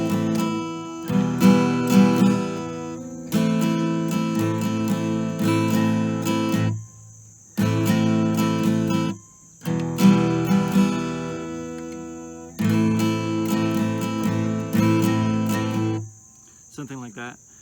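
Rhythmic acoustic guitar strumming plays repeated chord patterns in several phrases separated by short pauses, close and steady, with a high constant whine running throughout.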